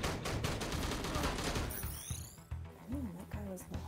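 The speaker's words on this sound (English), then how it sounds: "keep shooting the hostages" Rapid gunfire bursts in the shooter game Frontier TRS, a dense fusillade of loud shots packed into the first half, then thinning into scattered reports with a whistling ricochet-like tone and talk over the top.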